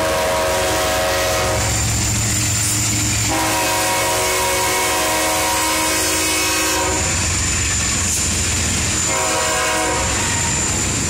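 Union Pacific 7379 freight train rolling slowly through a crossing in Effingham, Illinois, its loud horn blasting in long sustained blows over steady wheel rumble and rail noise, close by with no talk.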